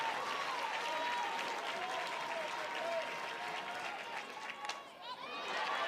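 A crowd at a college softball game between South Carolina and Alabama cheers and claps continuously, a dense, fairly distant roar of applause and shouts with a whistle briefly cutting through near the end.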